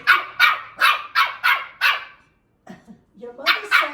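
A West Highland White Terrier barks repeatedly over a toy, six loud close barks in quick rhythm, then a short pause and a few more yips and barks.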